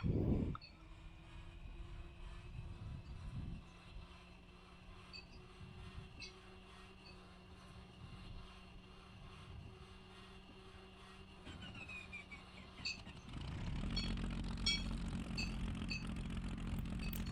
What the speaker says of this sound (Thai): ตอนนี้เครื่องยนต์ติดเป็นที่เรียบร้อยแล้วนะฮะ